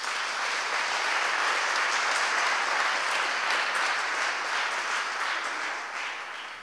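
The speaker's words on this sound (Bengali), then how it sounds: "ঈশ্বরকে আমরা হাততালি দিয়ে ধন্যবাদ জানাই" A church congregation bursts into applause, a dense sustained wash of many hands clapping together at steady loudness, tapering slightly at the end, with no voices over it.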